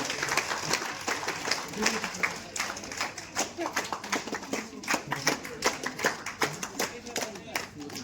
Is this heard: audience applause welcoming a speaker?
yes